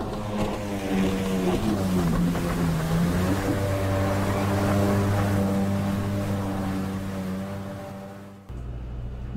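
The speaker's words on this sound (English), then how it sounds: "three, jet ski." Small motorized watercraft engine, a jet ski, droning steadily with a wavering harmonic whine that dips and rises, loud and close throughout before cutting abruptly near the end into a different low rumble.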